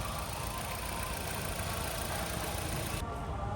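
A 2016 Maruti Swift petrol engine idles steadily, a smooth even hum with no talking, ending abruptly.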